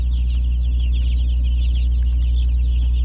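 A large flock of Cornish cross chickens clucks and chirps continuously, a dense overlapping chatter heard close by over a loud low rumble.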